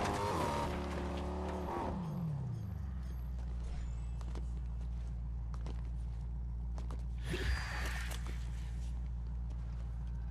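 A car in the Fortnite video game hums with a steady, droning engine after an opening rev and tire noise, continuous and moderately loud throughout with a brief squeal near the end.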